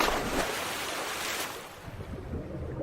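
Ocean waves along a seashore, a broad rushing wash of surf with gusty wind noise, swelling and easing over a few seconds, with nobody talking.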